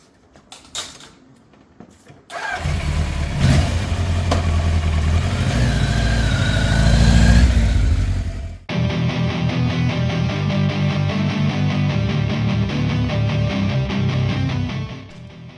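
A restored Kawasaki GPZ900R motorcycle engine fires up after a short quiet start, revs loudly with rising and falling throttle blips, then settles into a steady, close, full-bodied running note to the end.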